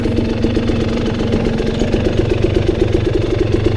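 A motorcycle engine churns loud and close while riding a forest trail at Red River Motorcycle Trails, a steady rough mid-pitched drone with a knocking pulse throughout, no voices.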